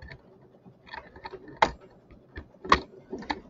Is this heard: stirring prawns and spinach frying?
no